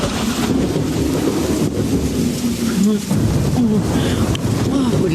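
Heavy rain and a stormy rumble outside a house at night, a steady loud wash of rain running throughout with a low continuous roar beneath it.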